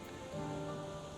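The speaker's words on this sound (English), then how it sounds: "Oh, it's raining." Rain falls steadily in Final Fantasy XIV, a faint, even hiss of drops that continues without a break and carries no talk.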